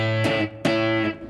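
Distorted electric guitar power chord shape with the fifth played an octave above the root, struck twice in quick succession with ringing sustain between hits.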